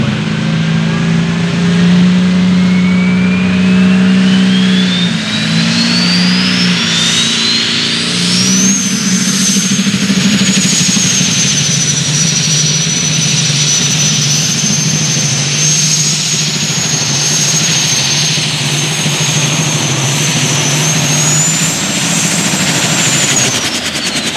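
A light super stock pulling tractor's multi-turbocharged engine roars steadily throughout, its high turbo whine climbing and then holding, over a deep rumble and constant mechanical noise.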